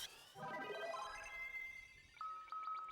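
Warp teleport sound effect from Final Fantasy IV: a rising, sparkling synthesized sweep followed by a repeating high chiming tone, clean and faint, with no talking.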